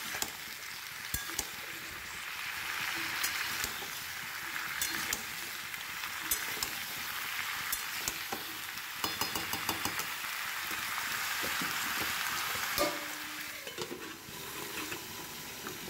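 Masala muri spices with turmeric are stirred and frying in a pan over raised flame, a steady crackling sizzle broken by repeated scraping and clattering of a spatula against the pan.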